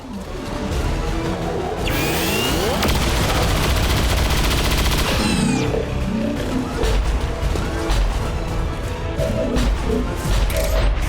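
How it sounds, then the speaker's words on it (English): Gunfire in the tactical video game XCOM 2, a standard shot taken during a mission, heard as loud, dense bursts of shots and mechanical clatter amid continuous game sound effects for most of the stretch. "it'll just have to be a standard shot"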